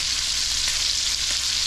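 Snipe meat searing in a hot pan while the pieces are flipped, giving a steady, close, loud sizzle and frying hiss with no voices.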